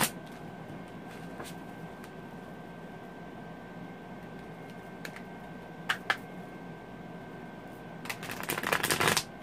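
Santa Muerte tarot cards being shuffled by hand, a soft continuous papery riffle over steady room hiss, with a couple of sharper snaps near the middle and a denser burst of flicking toward the end.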